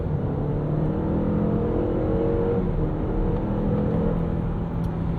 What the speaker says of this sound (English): Sounds like pretty much every other 2-liter turbo.